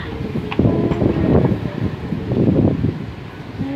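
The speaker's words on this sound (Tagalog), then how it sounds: "Lakas ang hangin." Strong gusty wind buffets the microphone outdoors, surging in loud, rumbling bursts with a rustling edge throughout.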